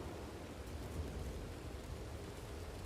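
Steady rain in a Wild West roleplay game, a soft, continuous wash of falling water heard faintly and evenly throughout with no voices.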